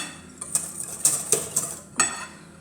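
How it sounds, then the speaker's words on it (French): A metal skimming spoon with holes clinks and scrapes against a saucepan several times in quick, uneven taps while skimming foam, close and fairly crisp. "on va prendre une sorte de cuillère avec plein de trous"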